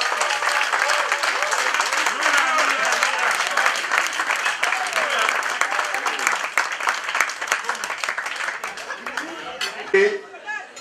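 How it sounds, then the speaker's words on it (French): Loud, sustained applause from an audience at the official launch ceremony of a new association, greeting its new members, with cheering voices and chatter mixed through the clapping until a brief swell near the end. "nous allons leur faire un tonnerre d'applaudissements."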